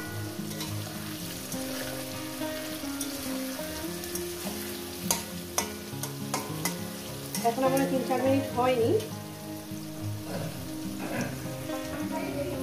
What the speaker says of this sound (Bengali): ঢেঁড়সটা আমার ভাজা হয়ে গেছে